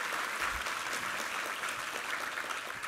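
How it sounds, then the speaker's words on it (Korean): A church congregation at a Sunday worship service claps in a dense, even round of applause that carries on steadily throughout, heard from a distance and fairly soft. "우리 하나님께 감사와 영광의 박수 올려드리겠습니다"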